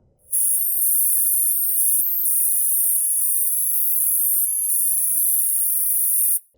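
A character data file from a visual novel game, converted into .ogg audio, plays as a steady, loud wash of bright high-pitched static hiss with faint shifting tonal flecks, starting abruptly and cutting off cleanly after about six seconds.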